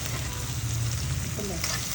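Finely chopped medium onion added to hot oil with lightly browned garlic, a loud, continuous sizzle and crackle close up, with faint stirring scrapes and no voices.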